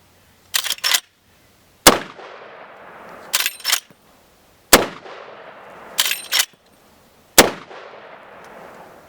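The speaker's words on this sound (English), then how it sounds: "So we're just going to fire off a few rounds." A Marlin 1895 Dark Series lever-action rifle in .45-70 with a compensator on the muzzle fires five loud, sharp shots spaced roughly a second and a half apart. The lever cycling rattles and clicks between the shots.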